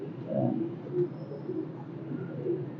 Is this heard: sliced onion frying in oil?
no